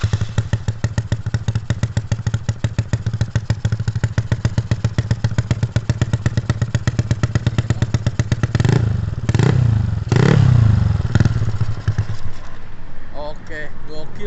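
A Yamaha Mio motorcycle with a road race setup idles with a loud, rapid, lumpy putter, then is revved in several sharp roaring bursts before settling back, with some talk near the end.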